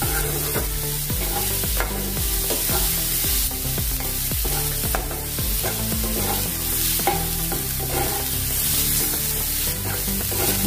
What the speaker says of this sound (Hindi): प्याज अच्छे से अभी ये भून गया है।